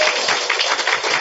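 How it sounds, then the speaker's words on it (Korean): A short burst of audience applause welcoming guests at a Korean talk event, a dense, even patter of many hands clapping with no voices over it. "이분들 환영의 박수 부탁드립니다"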